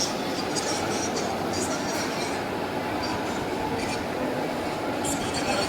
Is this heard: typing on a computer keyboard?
no